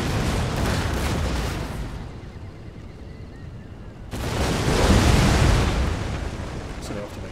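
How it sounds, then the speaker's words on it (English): A howitzer artillery volley in Empire: Total War: a loud, broad rumbling blast that fades, a brief lull, then a second heavy roaring volley that swells and slowly decays, with someone talking faintly underneath. "We do have some pretty kick-ass artillery, though."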